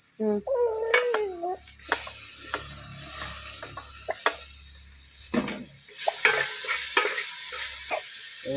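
Onions sautéing with salt in a pan for a Kasaragod-style chicken fry, with stirring scrapes and clinks over a low steady sizzle, close and fairly quiet, with no one talking.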